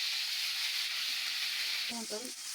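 Steady, bright sizzling of garlic frying in hot oil in a kitchen, close up, with a brief clatter near the end.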